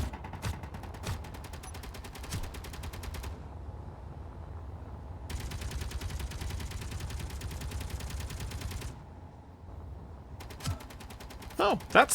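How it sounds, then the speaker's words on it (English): A turret on a modded ship in a video game fires at the player in long rapid-fire bursts of evenly spaced shots, pausing between volleys, steady and fairly close, with brief speech. "Oh, that's the turret that chose to attack me."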